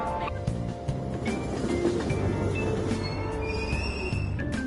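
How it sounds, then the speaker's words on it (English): Train at a Tokyo subway platform pulling away after doors close, a loud rumbling rail roar with wheel screech and squealing tones over steady clatter, close and continuous. "Train doors are now closing."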